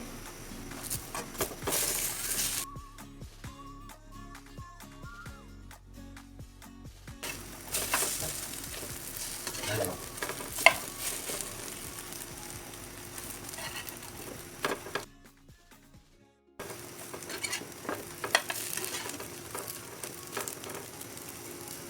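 Bread frying in a pan on a home stove, giving a steady soft sizzle with a few gaps where it goes quiet, plus clicks and clatter as the bread is turned over partway through.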